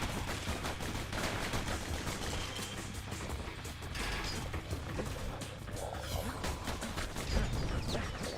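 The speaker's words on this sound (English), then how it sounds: "Stop shooting me!" Rapid gunfire and mechanical clatter in the action video game Bastion, a dense, continuous barrage of shots and impacts over busy game sound.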